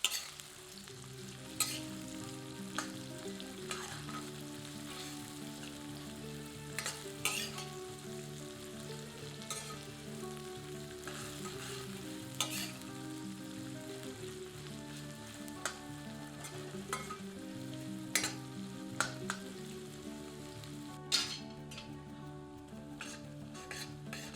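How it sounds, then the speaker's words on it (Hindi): Onions sizzle steadily over medium heat in a hot pan, frying toward golden, a continuous crackling fry with occasional sharper pops and stirring scrapes, no talking. "आंच मध्यम रखते हैं और प्याज को भूनते हैं जब तक कि प्याज सुनहरे रंग की नहीं हो जाती"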